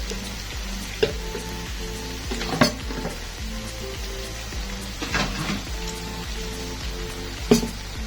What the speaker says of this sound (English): we are waiting for the onions to be golden brown, so we can put them into the mixture